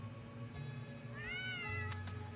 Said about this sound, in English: Kitty. Cat friend.